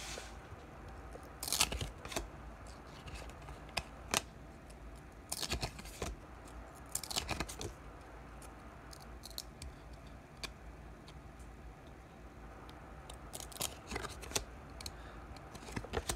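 Trading card battle packs peeled apart at a desk, a series of close crinkly tearing and crackling bursts scattered among quieter rustles and ticks, alone without speech.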